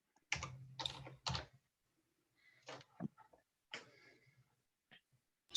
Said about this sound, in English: Somebody's typing emails. I can hear their typing going on.